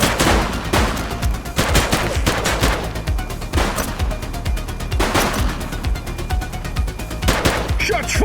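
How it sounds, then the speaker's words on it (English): Gunfire in the police video game The Precinct: loud repeated bursts of shots in several volleys across the whole stretch, close and dense, with game sound under them. "Shots fired!"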